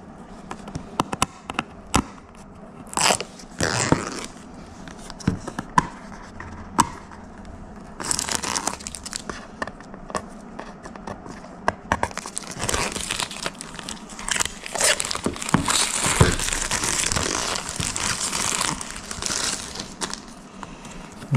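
The seal comes off a DJI Osmo Mobile 3 box in close, crisp crackles and scratchy tears of plastic and paper. They arrive in irregular bursts and grow busier toward the end.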